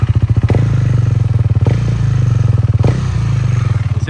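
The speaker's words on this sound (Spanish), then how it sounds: "Ese bebé, ese motor, cómo suena." A Husqvarna 401 Svartpilen motorcycle engine idles close by with a loud, throbbing single-cylinder pulse, steady and rhythmic, with a few brief clattering blips.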